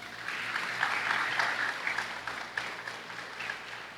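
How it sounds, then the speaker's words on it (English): A dense, sustained round of applause fills a hall at a Naparima College graduation and awards ceremony, with the crowd clapping steadily for the full few seconds. "Let's give him a round of applause, please."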